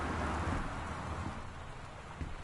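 Steady rain with a faint low rumble of thunder in the video game Gone Home, a dense continuous hiss filling the background with no talk.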